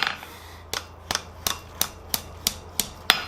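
A blacksmith strikes a scroll for a Christmas ornament with a hammer, about ten sharp metallic blows at a steady, roughly one-per-third-second rhythm, close and ringing, with no talking.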